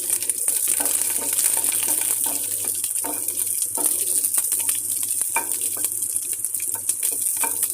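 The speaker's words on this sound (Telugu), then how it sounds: "ఇప్పుడు పచ్చిమిర్చి కరివేపాకు కూడా వేసి బాగా వేయించుకోవాలి" Green chillies and curry leaves fry in hot oil in a pan, giving a steady close sizzle broken by the scrape and clatter of stirring, with no voices.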